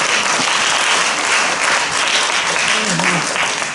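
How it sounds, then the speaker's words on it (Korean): Warm applause from an audience at a Daegu literary society's joint book launch at a live café, honoring authors and poetry reciters; dense, steady clapping fills the whole stretch with a faint voice murmuring underneath. "최고 따뜻한 박수"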